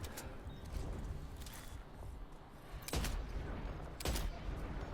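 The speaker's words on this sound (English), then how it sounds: "they can hear you shooting, of course, because that sniper rifle is not silenced" Unsilenced sniper rifle shots in Death Stranding 2: two sharp, loud cracks about a second apart stand out over a steady noisy background, with fainter shots earlier.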